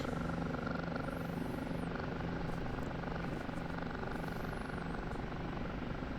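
An OH-58D Kiowa Warrior helicopter in the DCS flight simulator drones steadily as it flies forward and gains speed, a constant dense rotor and engine roar with no talk.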